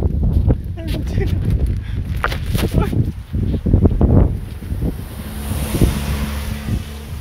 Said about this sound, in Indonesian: Saking gedenya angin di sini.